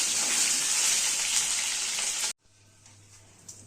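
Potatoes for chicken curry sizzling loudly in hot oil, a dense steady hiss that cuts off abruptly, leaving a quiet low hum with faint kitchen clatter.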